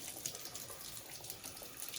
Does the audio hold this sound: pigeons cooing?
no